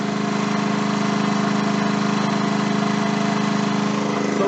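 A Ryobi 4000-watt inverter generator runs at a constant steady hum, loud and close, with an even droning engine tone and no talking.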